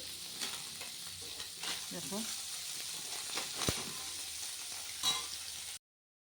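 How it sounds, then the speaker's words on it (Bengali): Small chuno fish fry in a wok, giving a continuous close sizzle mixed with scraping stirring strokes, while a voice briefly speaks over it before the sound stops abruptly. "এখানে চুনো মাছ ভাজা হচ্ছে"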